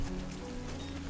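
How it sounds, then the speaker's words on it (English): Rain falling in the video game Death Stranding 2, a steady, soft hiss of rain on surfaces with no talk, brief and even. "Rain is very dangerous in this game."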